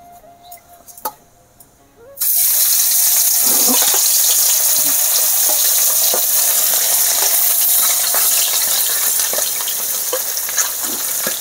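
After a couple of seconds of quiet clinking, fish hits hot oil in a pan and a loud, crackling sizzle erupts and continues steadily to the end.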